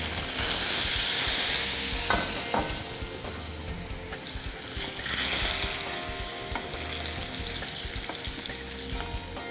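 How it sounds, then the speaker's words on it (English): Potatoes frying in hot ghee for an Indian aloo salan, giving a steady, loud sizzle with occasional stirring clatter and bursts of spitting and crackle throughout. "So I just add in these potatoes to the ghee."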